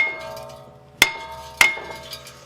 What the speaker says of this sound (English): we should be able to just whack it with a hammer to break it free